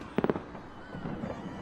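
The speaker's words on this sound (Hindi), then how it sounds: "ये पूरी आतिशबाजी और आधे शहर में खलबली मची है" Three sharp firework pops crack in quick succession in a Hindi-dubbed zombie movie, followed by a softer, distant rumble and crackle.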